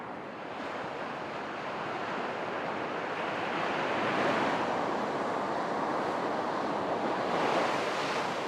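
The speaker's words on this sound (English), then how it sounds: "It's just a lovely day here and a fantastic beach." Surf rolls steadily onto a long beach of about 9 kilometers, a continuous broad wash of breaking waves with some wind noise, loud and unbroken throughout, with no voices.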